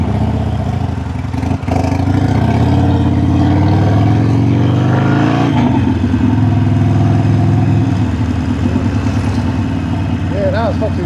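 A Harley-Davidson Sportster motorcycle engine runs loud and close, rising and falling through revs before pulling away, with voices talking over it.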